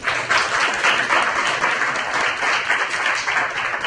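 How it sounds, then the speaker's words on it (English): Sustained, dense applause from a conference audience at a law enforcement and citizen relations colloquium, steady and loud throughout with no talking. "Let's give Richard a nice round of applause."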